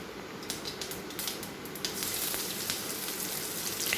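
Finely chopped onion dropped into hot oil for a Kerala black chickpea curry, a dense hiss that builds and grows louder midway, with light crackling spatter throughout.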